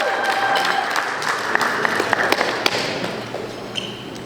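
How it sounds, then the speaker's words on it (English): A crowd at a track team brunch applauds an award with continuous dense clapping, a few sharper claps standing out, tapering slightly toward the end. "Let's give Lester a giant round of applause."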